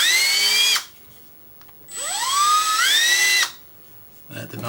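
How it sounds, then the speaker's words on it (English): Power drill with a 0.234-inch imperial bit, used while modding a Nintendo 64 console. Two separate bursts of whining motor spin-up, each rising in pitch before cutting off, close and loud with a quiet gap between them. "So let me find the right drill bit here."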